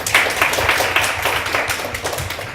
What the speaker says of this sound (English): let's give a warm round of applause to her